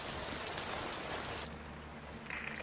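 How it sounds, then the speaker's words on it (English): Heavy pouring rain in a movie scene, a dense steady hiss of downpour that drops slightly in intensity partway through, with a faint low hum underneath and no voices. "Georgie wants to sail it outside in the pouring rain"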